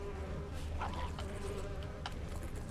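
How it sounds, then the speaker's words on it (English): Bees buzzing in the Witcher 3 video game, a faint steady hum beneath a low ambient rumble with a few brief tonal blips, and no talking. "I hear bees."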